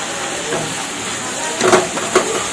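Washed greens and mint sautéing in a pan for thuvaiyal, a soft steady sizzle with a couple of louder hissing bursts near the end.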